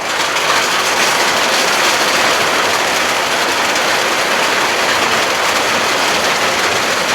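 Steady broadband hiss of rain falling continuously throughout, loud and close, with no talk.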